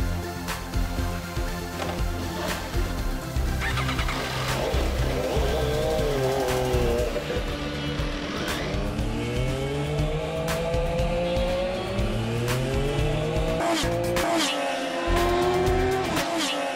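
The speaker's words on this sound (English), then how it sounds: "The race is on to test the bike on the track." An MV Agusta F3 motorcycle being test-ridden on a racetrack, its engine revving high and continuously with rising and falling pitch as it accelerates and shifts, a steady close roar throughout.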